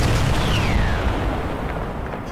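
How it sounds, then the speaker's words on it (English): Distant gunfire off to the east during a military exercise, a rolling, rumbling burst of shots that fills the air and slowly fades. "Shots east."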